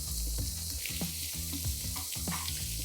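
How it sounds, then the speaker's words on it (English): Two hundred grams of paneer fries toward golden brown in hot oil, a steady crackling sizzle close by with repeated scraping, turning knocks of a utensil every half second or so, no voices. "200 grams of paneer, which I'm going to fry to a nice golden brown color"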